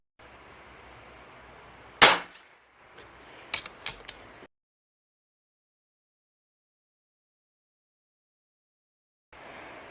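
A single sharp crack from a Chiappa FAS AR611 .22 PCP target air rifle firing an 18-grain pellet, with a few mechanical clicks after it, then silence until faint noise returns at the end.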